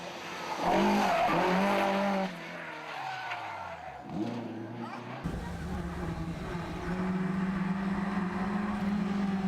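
A rally car spins out on a gravel stage at a spring rally event. Its engine howls and then drops away as the tires skid and scrub loudly, and a falling engine sweep follows before it revs back up and holds a steady drone.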